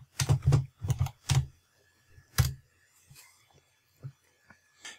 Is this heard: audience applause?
no